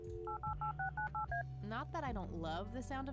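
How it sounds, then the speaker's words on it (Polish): A telephone dialed in the adventure game Kathy Rain, with a quick run of seven clear keypad tones followed by a rising sweep and game sounds, while a person talks over the end. "Podnieś słuchawkę. Podnieś telefon."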